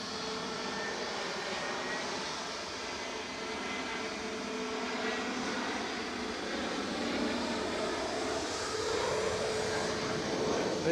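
An easyJet airliner arriving from Venice at Edinburgh Airport gives a sustained jet roar, with a rising whine and a tone that sweeps down near the end as it passes, growing slightly louder.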